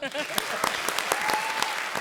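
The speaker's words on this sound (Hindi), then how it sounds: "एक बार जोरदार तालियां" A studio audience breaks into applause on a Hindi television comedy show, a steady wash of clapping lasting about two seconds, with a brief tone and faint voices underneath.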